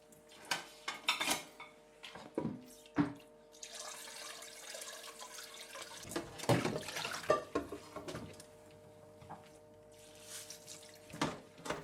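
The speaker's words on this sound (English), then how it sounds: "I'm using a metal scrubber," Soaked pans scrubbed with a metal scrubber at a kitchen sink, with clanks of pans and utensils, bursts of rough scouring and running water, close and fairly quiet.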